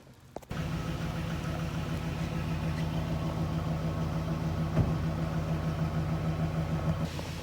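A car engine idles with a steady low rumble for several seconds after starting up, holding a constant hum with a faint mid-way blip and no talking over it.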